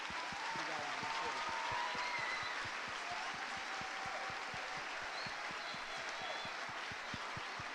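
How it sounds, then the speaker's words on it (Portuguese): An audience at a school musical cantata applauds the teachers, sustained even clapping with distinct hand claps close by, fairly quiet overall and with faint speech mixed in. "nós gostaríamos de aplaudir a todas vocês"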